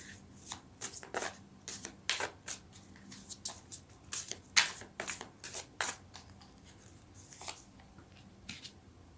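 Tarot cards being shuffled by hand before a draw, a close series of quick riffling and slapping bursts in an irregular rhythm, quiet and without talk.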